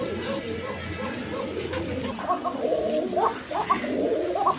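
Pair of Arabian coca pigeons sitting on a clay pot nest coo in low, repeated rolling calls, close and steady throughout, over a faint murmur of background voices.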